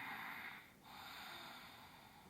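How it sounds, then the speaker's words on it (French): Ujjayi yoga breathing, a steady oceanic breath drawn through a narrowed throat, heard close as a continuous airy hiss with a brief dip partway before the sound resumes. "Donc on va faire Ujjayi. On va faire quelques respirations comme ça."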